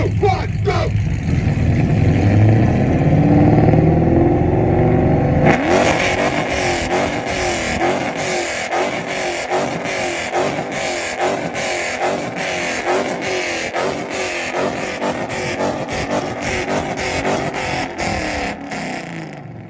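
A Dodge Challenger revs hard at a rev battle car show event. A loud burst of engine roar opens, then gives way to rapid popping, crackling exhaust bursts in a fast rhythm, with crowd voices underneath.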